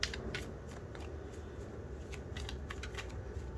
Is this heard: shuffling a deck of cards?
yes